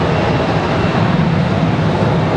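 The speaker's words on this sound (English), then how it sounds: "We've got a departure going first. We've got that United Express E175." A United Express Embraer E175 jet departs with a dense, steady roar of engine noise that stays loud and unbroken throughout.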